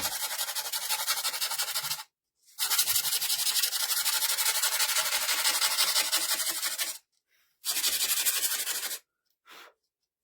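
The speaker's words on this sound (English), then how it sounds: "Let's take my sander." A power sander works a craft piece for a firefly night-sky project in three long rasping bursts, separated by short pauses, followed by one brief final touch. The sanding is close and loud.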